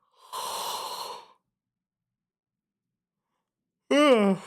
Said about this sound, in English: Hang on, let me yawn again.